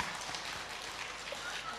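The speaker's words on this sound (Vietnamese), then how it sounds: "làm vỗ tay hoài à" An audience at a Buddhist dharma talk claps in a steady, continuous wash of applause, moderately loud and even throughout.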